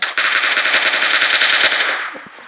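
Rapid automatic gunfire from a video game crackles in a loud, dense burst lasting about two seconds, then trails off into quieter sounds.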